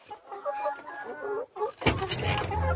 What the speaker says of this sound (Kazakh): Тауықтарымыз осы.